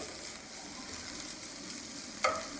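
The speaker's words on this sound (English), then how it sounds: "it's sizzling really nicely." Steady, quiet sizzling of steak frying in a hot pan, a continuous crackling hiss with one brief sharp clink near the end.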